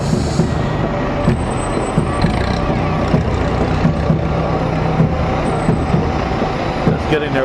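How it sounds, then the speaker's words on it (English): Fire trucks roll past in an outdoor town apple festival parade, a continuous heavy engine rumble and road noise with occasional hiss and clatter, close and loud, while crowd voices murmur throughout. "The Peru Blue fire trucks."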